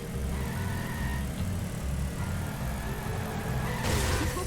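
A car engine hums steadily in The Simpsons: Hit and Run video game, a continuous pulsing drone with slight throttle changes and a brief burst of noise near the end.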